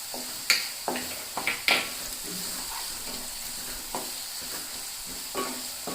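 Curry leaves crackle and sizzle in hot oil, a close, steady frying hiss marked by several sharp pops and spatters early on, then settling into a continuous sizzle with occasional crackles.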